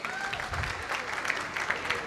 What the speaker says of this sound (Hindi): तो एक बार जोरदार ताली बजा दो मैडम के लिए।